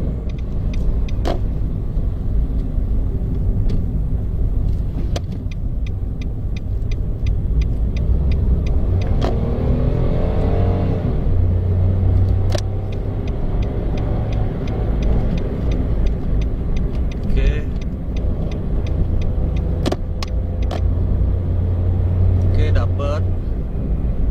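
A Nissan March with a remapped ECU drives along steadily from inside the cabin, its engine rumbling continuously with brief revs, while people talk over it.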